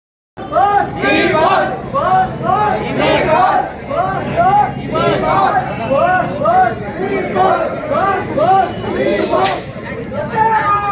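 A dense Sunday crowd packs a movie theatre for a D Boss film, a loud, continuous roar of overlapping voices, shouts and cheering that swells and surges without pause.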